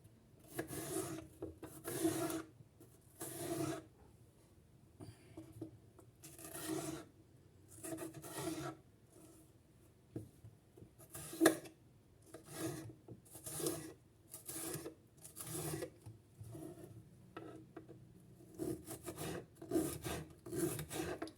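A knife cuts a kapya red pepper into thin slices on a board, giving soft rasping, rubbing strokes in an irregular rhythm, faint and close, with short pauses between cuts.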